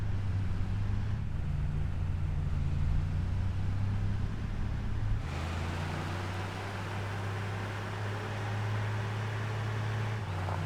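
Tractor engine droning steadily in Farming Simulator 25 during a logging haul, a low continuous hum with a shift in pitch and texture partway through, no talk.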